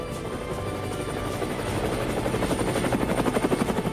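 A helicopter's steady rotor chop drones throughout, its thumping pulse growing louder and more pronounced toward the end.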